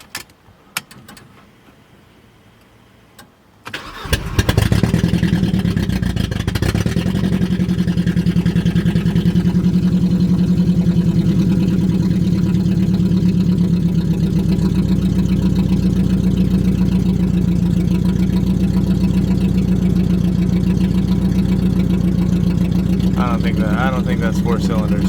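A Mercedes-Benz engine cranks and catches after a few quiet seconds, then settles into a loud, steady, slightly rough idle that holds for the rest of the stretch.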